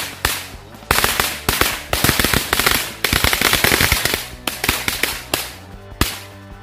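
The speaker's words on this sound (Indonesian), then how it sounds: "yang selanjutnya ini kita nyalain satu gepok mercon korek" A string of firecrackers crackles in rapid, loud bursts of sharp pops, rattling on and off for several seconds.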